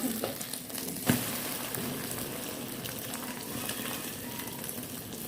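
A Thai omelette (khai jiao) fries in hot oil in a pan, giving a continuous soft crackling sizzle with a brief louder clatter near the start, steady and moderately quiet throughout.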